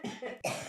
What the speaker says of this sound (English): Melissa's having a coughing spat over here.